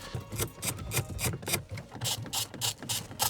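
A hand ratchet clicks in quick repeated bursts while undoing fasteners on a Range Rover Evoque, with sharp, close ratcheting strokes and short pauses between them.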